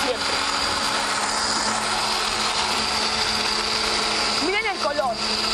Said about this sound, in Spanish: Y vamos a empezar a licuar.